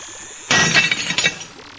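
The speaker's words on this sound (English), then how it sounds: "Watch closely what happens to that glass on the edge of the table. Watch. It's amazing. The glass was shattered." Glass on the edge of a table shatters as a radio drama sound effect: a sudden loud crash followed by a spray of tinkling shards that dies away within about a second, with no voices over it.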